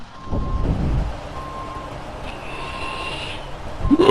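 Truck backing up in the SnowRunner video game, a loud rhythmic series of high reversing beeps repeating at regular intervals over a low engine rumble, with a brief hiss near the end.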